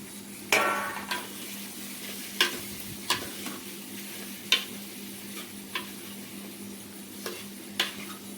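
Potatoes go into a pan of frying tomato and chilli, followed by a soft steady sizzle and scattered sharp clinks and scrapes of a spoon stirring against the metal, with no one talking.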